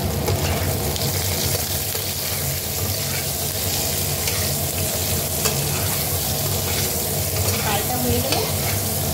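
Potato pieces seasoned with salt and turmeric frying in a pan, a continuous close sizzle with occasional stirring scrapes, steady and fairly loud throughout.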